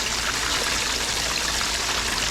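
Muddy water mixed with Home Depot all-purpose sand drains away in a steady, loud rushing flow, like a constant stream with no pauses.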